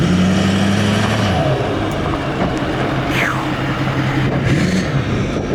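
A 6.4 diesel pickup truck with compound turbos accelerates hard, a loud deep engine roar with turbo whistle rising, heard up close and continuous for several seconds.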